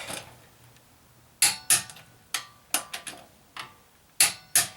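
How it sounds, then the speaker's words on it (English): Wheel bolts on a 2005 Cadillac Deville being tightened, heard as a series of sharp, close metallic clicks and ratchet snaps coming in uneven bursts with short pauses between them. "You want to tighten the bolts in a star pattern to evenly torque your rim back on."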